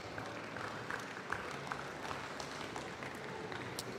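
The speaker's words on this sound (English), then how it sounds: "I think we can start with a round of applause for an incredible class of calves" Audience applause for a class of calves at a livestock show, steady clapping from a crowd held at an even level throughout, fairly distant and diffuse.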